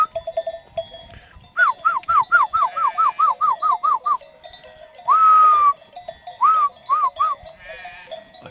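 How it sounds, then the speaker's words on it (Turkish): Small bells on a flock of sheep at a cool village fountain ring faintly and steadily behind loud, repeated close bleating in quick bursts. "Bir de çan da var."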